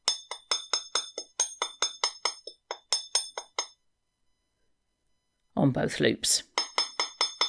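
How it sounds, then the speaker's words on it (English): Ball peen hammer lightly tapping a wire bracelet on a hard block, a steady run of bright metallic clinks that pauses, resumes after a brief rustle, and carries on under a short spoken phrase. "So I'll just use my ball peen hammer and lightly put in a bit of texture both sides of the"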